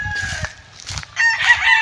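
Roosters crowing and hens clucking close by, overlapping calls in quick succession with no talking.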